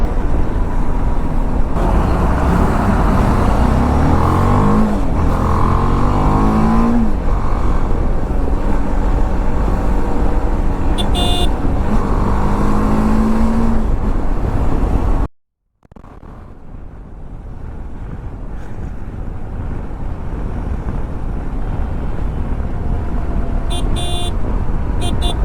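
A car driving slowly through thick dust on a coastal road near Alibaug's Kashid beach, steady loud engine and road noise with passing horn-like tones, briefly cutting out before resuming.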